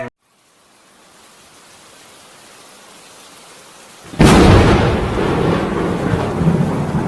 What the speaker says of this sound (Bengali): আবারও বৃষ্টি শুরু হয়ে গেল